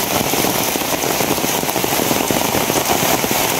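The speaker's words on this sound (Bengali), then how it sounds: "প্রচুর পরিমাণে বৃষ্টি," Heavy overnight rain pours steadily alongside a swollen river, a dense, continuous hiss of drops hitting surfaces with scattered crackling patter and no voices.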